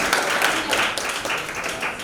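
A classroom group claps together during an accounting lesson, a dense, steady patter of many hands close by that holds for about two seconds with no pauses.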